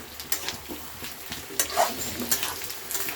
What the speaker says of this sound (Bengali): এতে আমি আলুগুলো, যেটা আমি আলুটা কেটে ধুয়ে রেখেছিলাম, এটা আমি ছেড়ে দিলাম এতে